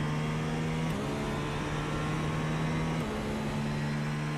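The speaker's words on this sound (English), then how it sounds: "let's listen to the car engine right here" Race car engine at Petit Le Mans holding a steady, loud drone from start to finish, with a constant pitch that shifts slightly down twice as the car changes speed, heard on its own without any talk.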